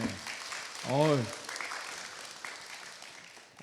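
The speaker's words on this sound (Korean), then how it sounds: "두 분께 박수 한번 보내주세요" An audience at a trauma-healing week event breaks into applause, a soft broad patter of clapping that carries on at moderate level after a brief voice rises and falls at the start.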